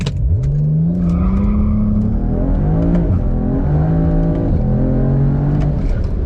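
A BMW E92 335i with the N54 engine accelerates hard from a standstill to 100 km/h. The close, loud engine roar climbs in pitch through each gear, with short dips at the shifts.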